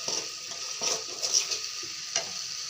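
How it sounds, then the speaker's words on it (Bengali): Spices sizzle steadily in hot oil in a wok with kalonji seeds, a bright continuous frying hiss broken by a few scrapes and stirs of the spoon, close and alone. "মশলাগুলো ভালো থেকে ভাজা করে নেব আগে।"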